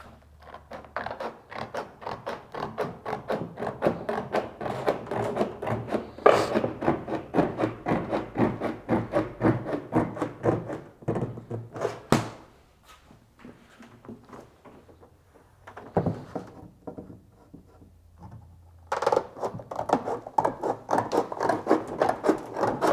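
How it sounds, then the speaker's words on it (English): Straight snips, called bulldogs, cutting sheet metal for a duct transition, a run of close, rhythmic crunching snips and scraping metal, pausing briefly midway before resuming, with no talk. "Straight snips here, we call these bulldogs."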